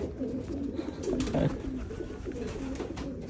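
Free-flying domestic pigeons coo in a low, steady murmur throughout, with soft flutters and rustles mixed in, close by and moderately loud with no talking.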